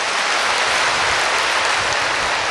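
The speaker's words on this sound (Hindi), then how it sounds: "अपने लिए ताली बजाओ, हम तैयार हैं।" A crowd at a spiritual talk claps for itself, a dense, steady wash of many hands applauding at once, loud and continuous throughout, with no voices heard over it.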